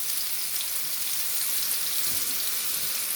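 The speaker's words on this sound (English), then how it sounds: "So we'll throw this in there and we'll saute this for a few minutes." Mushrooms sautéing in a pan for buckwheat soup, a dense, even hiss of frying that holds steady and close throughout, with no voices.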